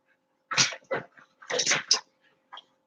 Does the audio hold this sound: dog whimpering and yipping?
yes